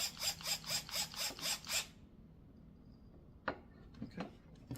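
Phillips head screwdriver tightening a screw on a wooden kids table, a quick run of about seven sharp ratcheting clicks, close and distinct, followed by a pause and a few scattered lighter clicks.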